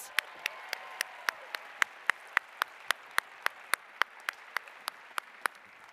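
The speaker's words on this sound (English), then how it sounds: "Let's give the senior class officers a round of applause." Crisp, evenly spaced claps ring out at a commencement ceremony, a steady metronomic patter that sounds like a few hands rather than a full crowd.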